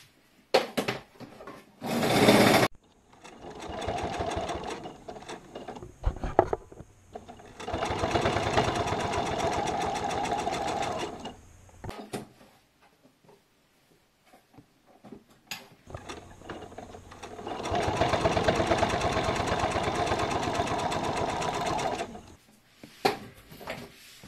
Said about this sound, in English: Baste stitch the sides from the bottom towards the top.